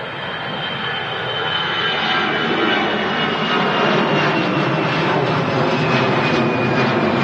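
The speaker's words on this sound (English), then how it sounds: "Lufthansa's rolling." Lufthansa jet airliner rolling for takeoff at Manchester Airport, a loud, steady engine roar that swells gradually as it builds power, heard alone without talk.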